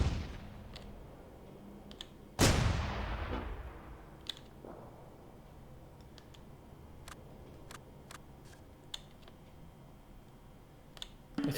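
Gunfire and artillery from the Close Combat war game: one loud heavy blast with a long fading roar, a smaller bang after it, and scattered sharp distant clicks and shots, with no talk.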